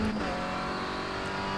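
Renault Clio Cup race car in the iRacing simulator, its engine droning steadily at high revs throughout, close and continuous.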